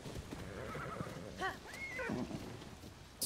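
A horse neighs in a video game, a short whinny heard faintly over a low background of game ambience.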